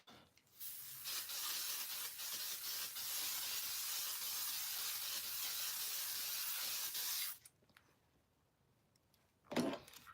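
Setting mist sprayed onto a face: a long, steady, close hiss of fine spray lasting several seconds, then quiet and one short burst near the end.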